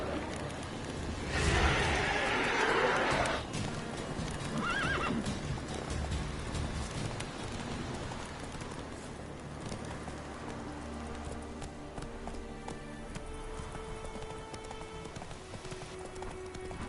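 Roach, the horse in The Witcher 3, whinnies loudly near the start, then hooves clip-clop in a steady galloping rhythm under a soft rain-like wash, fading into ambient game sound.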